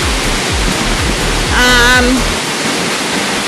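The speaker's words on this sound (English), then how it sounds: "I can feel the mist from the waterfall." Waterfall on the Adams Canyon trail in Layton, Utah: a steady, loud broadband rush of falling water fills the whole clip, with a few low thumps early on and a brief whistling tone near the middle.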